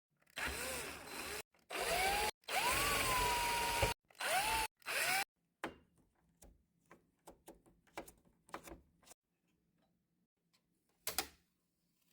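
A small electric screwdriver whines in several short bursts while backing screws out of a PS5 console, followed by scattered light clicks and taps of screws and plastic parts being handled.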